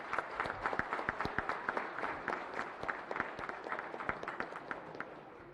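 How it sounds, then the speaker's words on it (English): Banquet guests at a sports hall of fame dinner in Indiana give the country club staff a round of applause, with sharp individual claps standing out clearly over a steady, moderately distant patter. "how about a round of applause to the Indiana Country Club staff for another great dinner tonight"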